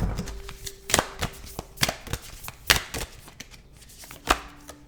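Moonology oracle cards being handled and shuffled, giving a series of sharp, uneven slaps and riffles spread across the stretch, close and fairly loud, with no talking.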